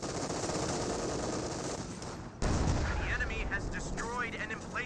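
Pack howitzers fire in a Company of Heroes 2 match, heavy booming blasts and crackling battle noise that are loud and continuous, with a brief drop before a fresh burst and a caster talking over it.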